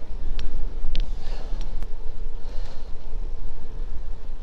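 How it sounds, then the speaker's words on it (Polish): Steady low roaring wind buffeting the microphone while cycling, loud and continuous throughout, with a few faint brief clicks and no speech. "ten wiatr przeszkadza prosto w twarz"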